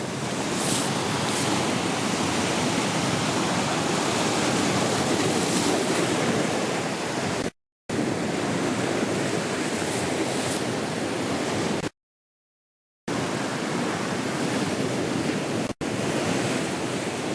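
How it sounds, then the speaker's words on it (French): Mediterranean sea waves churning against a steep rocky drop-off, a loud, continuous roar of surf and rushing water with wind buffeting the microphone, briefly cut by a few short gaps. "il y a le retour de courant et les vagues qui viennent brasser la zone"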